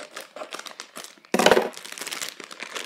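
A plastic blind bag crinkles and rustles close up, then a sharp scissor snip and louder crackling as the packaging is cut open and pulled apart.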